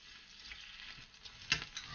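Marinated meat browning in a hot pan with a dab of oil for bibimbap, giving a steady close sizzle with a few sharper crackling bursts near the end and no talking.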